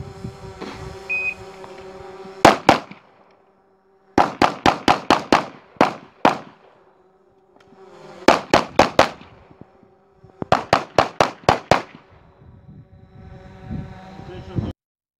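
Pistol gunshots from a shooter engaging targets on an IPSC stage, four rapid bursts of loud, sharp shots separated by brief pauses, over faint background noise.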